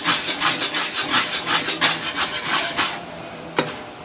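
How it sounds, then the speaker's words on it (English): Gravy is whisked in a pan, giving steady scraping, rasping strokes in a quick rhythm for about three seconds, then a pause and one last sharp tap. "I'm just going to drop a little in there and whisk it"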